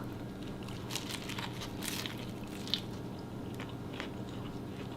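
Crunchy Southern-style fried fish being bitten and chewed close up, crisp crackling bites repeating over a few seconds with no talking.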